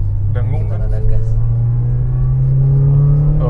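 A Toyota Altezza RS200 with a 3S-GE engine idles and revs through a modified exhaust with replaced resonator and rear muffler, a steady deep drone that rises slightly, with people talking over it.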